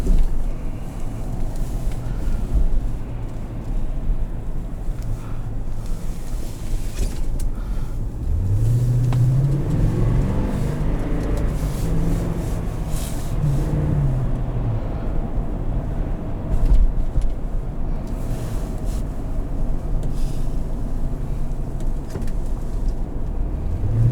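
A 2010 Toyota Sequoia Limited engine while driving, a continuous low road drone heard from inside the cabin with a rising revving sweep around the middle, no talking.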